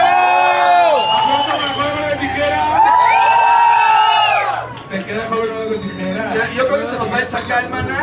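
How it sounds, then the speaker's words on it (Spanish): A crowd in a bar cheers and whoops loudly throughout, with voices shouting over a steady roar of audience noise. "a ver, aplauso para Satanás."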